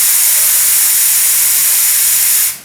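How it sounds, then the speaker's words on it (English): A standalone espresso machine's steam wand hisses loudly and continuously at close range, a dense high-pitched rush that cuts off abruptly at the end. "As long as there is water in the tank here, if you open this steam and you keep it on, you won't lose the pressure."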